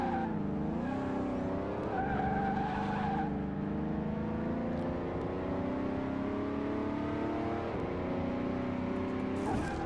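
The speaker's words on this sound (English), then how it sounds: "Try and launch the car" A car in the video game Car Mechanic Simulator 2018 launches and skids, its engine revving through rising and falling pitch sweeps with tire squeal layered on top, loud and continuous for about ten seconds.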